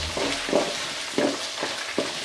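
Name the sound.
green peas frying in oil for vangibath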